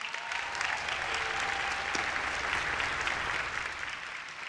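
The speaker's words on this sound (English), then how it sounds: "Nicole Lynn Lewis, round of applause." Audience applause at an awards ceremony for student academic excellence, a steady, dense round of clapping from a sizeable crowd that holds at an even level throughout.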